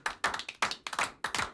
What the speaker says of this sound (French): Ouais, nous applaudissons.